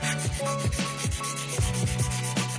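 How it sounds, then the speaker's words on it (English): Rhythmic rubbing strokes of sandpaper against a wooden skateboard deck, a rough scratchy back-and-forth repeated quickly and evenly, close and fairly loud. "So I'm done sanding the board"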